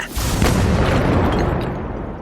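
A magic spell triggers a loud, rumbling explosion in a fantasy audio story, the heavy boom swelling quickly and then rolling on as a sustained roar that fades only slightly.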